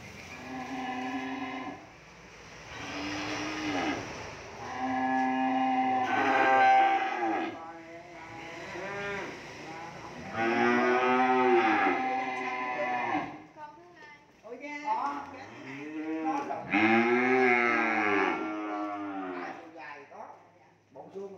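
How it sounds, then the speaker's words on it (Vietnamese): A black cow moos loudly and close by, several long, drawn-out lowing calls with short pauses between them, heard alone without speech. "Con bò đen"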